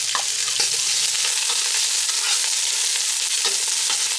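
Ginger and onion sautéing in hot oil in a pan for a Filipino goto, a steady close sizzle with scattered stirring clinks and scrapes throughout, no voices.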